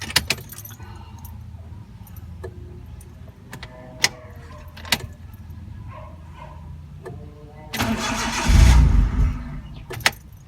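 Car engine starting during a stance project after a new steering wheel and hub install: keys jangle and click first, then a loud starter crank catches and revs briefly before settling, all close and without talk.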